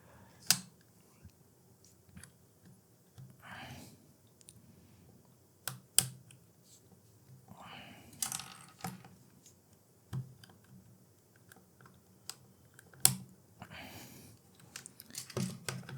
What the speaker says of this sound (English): going ahead with the L1 and the R1 button that I will be getting off using this little screwdriver